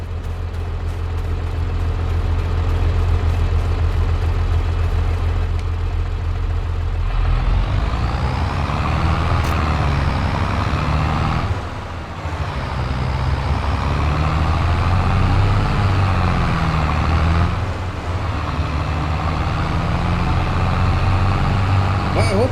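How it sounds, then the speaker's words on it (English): An old Fiat tractor engine in Farming Simulator 22 runs with a loud, droning low rumble that shifts in pitch as it revs and settles, a steady mechanical hum continuing throughout. "I ain't never heard no darn old tractor squall as much as this one here."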